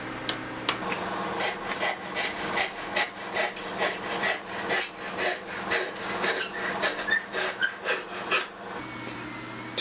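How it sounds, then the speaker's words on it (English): Exposed pallet wood on a homemade couch is sanded by hand, with rhythmic back-and-forth rasping strokes repeating steadily at close range before a short pause near the end. "I sanded down any exposed areas on my couch"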